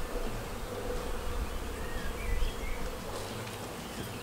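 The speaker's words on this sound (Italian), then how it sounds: "E cerchiamo di far andare le api qui dentro." Honeybees buzz around a hive frame in a close, continuous swarming drone that rises and falls slightly, with no talking.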